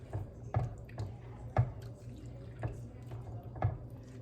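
Beans being stirred in a cooking pot give soft, wet squishing and sloshing strokes in a loose, regular rhythm, about five or six thick scrapes heard up close at moderate volume.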